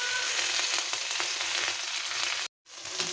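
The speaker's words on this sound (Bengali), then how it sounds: "শুটকিটা আমি এখানে উল্টায় পাল্টে ভাজা নেব" Dried fish frying in oil with taro leaves and a little garlic gives a dense, continuous close sizzle that cuts out for a moment and then resumes.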